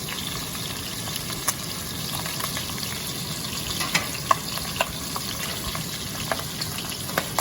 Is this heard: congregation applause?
no